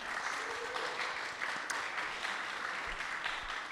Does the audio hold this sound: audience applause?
yes